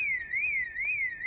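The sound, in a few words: alarm going off in the video game Project Zomboid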